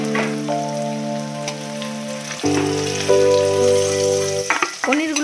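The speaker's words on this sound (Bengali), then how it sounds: "সাদা তেলটা গরম হলে অল্প নুন দিয়ে পনিরটাকে ভেজে নেব।" Paneer pieces sizzling and frying in hot white oil with a little salt in a kadai, a steady crackle running throughout with a sustained tonal hum underneath.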